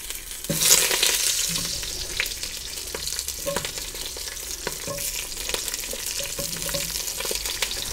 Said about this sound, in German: Ich gebe noch mehr Butterschmalz in den Topf und brate darin jetzt die Zwiebeln auch portionsweise an